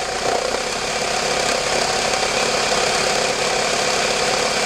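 A 1998 Toyota Camry engine running in gear with the brake pedal held down, giving a steady loud droning hum with a faint rattling vibration and no talk.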